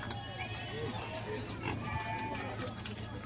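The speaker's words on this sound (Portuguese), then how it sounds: "Mais uns porcos aqui pra vocês aí." Pigs oinking and grunting at the Tabira animal market in Pernambuco, faint scattered calls amid a busy crowd murmur and other livestock, with a low steady hum beneath.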